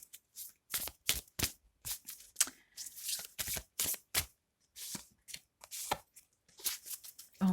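A Steampunk Tarot deck being shuffled by hand, a quick irregular series of close card flicks and riffles with short gaps, no speech.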